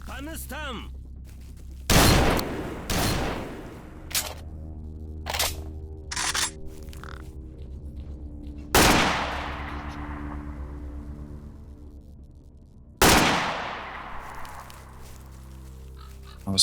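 Gunfire in the S.T.A.L.K.E.R. OGSE shooter game: several sharp single shots spaced seconds apart, each cracking loudly and ringing out with a long echoing tail over a low steady hum.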